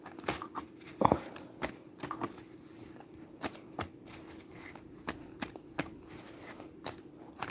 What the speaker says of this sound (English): I'm just going to shuffle them a little bit more.